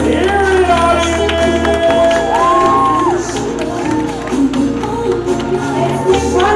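Audience at a fashion show on an awards night cheering and clapping with whoops and shouts, loud and sustained, with music tones running underneath.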